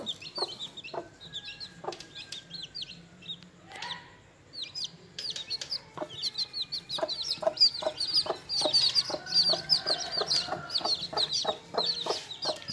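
An Aseel hen clucks among her newly hatched chicks, with repeated low clucks mixed with many high, rapid chick peeps, close and fairly quiet, growing busier toward the end.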